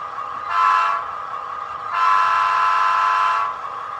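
A model train horn sounds twice, a short toot and then a longer sustained blast, over a steady engine hum.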